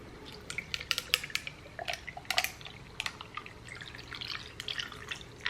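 Liquid pouring into a big glass, full to the top, with wet splashing and dripping trickles in irregular bursts close by, no talking.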